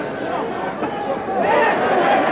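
A boxing crowd at a title unification bout between Prince Naseem Hamed and Tom Johnson roars in a broad, sustained swell that builds toward the end, with a commentator talking over it.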